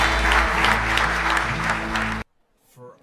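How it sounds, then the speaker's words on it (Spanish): A church congregation applauding during a sermon, a thick burst of clapping over music and talk that cuts off abruptly partway through, leaving near silence. "Le damos un fuerte aplauso a nuestro Dios"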